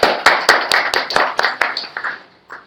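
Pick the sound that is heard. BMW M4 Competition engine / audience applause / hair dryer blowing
audience applause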